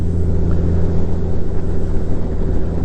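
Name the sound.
Honda Gold Wing DCT motorcycle engine accelerating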